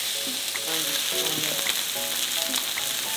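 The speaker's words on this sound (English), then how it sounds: "I'm going to cook this meat for 2 minutes on each side." Meat chops sear in a hot pan with a steady, dense sizzle and crackle throughout, fairly close and with no voices.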